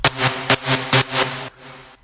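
Bright Sylenth1 EDM drop lead preset pulsing in a bouncy rhythm of about five punchy stabs over a steady chord bed, then fading into a softer decaying tail. No one talks.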